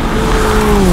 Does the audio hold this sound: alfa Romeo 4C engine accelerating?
yes